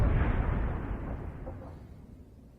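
A tank shell hitting its target in a tank video game, one heavy booming explosion that starts loud at once and fades slowly over a couple of seconds, alone with no talking.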